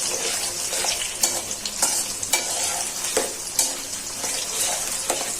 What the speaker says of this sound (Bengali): চুলার আঁচটা একটু বাড়িয়ে দেই, পেঁয়াজটা ভালো করে ভাজা হয়ে যায়।